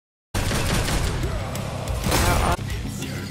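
Rapid twin-pistol gunfire from the video game Devil May Cry 5, loud and near, a dense, continuous burst of shots layered with crashing game effects that runs almost unbroken for about three seconds.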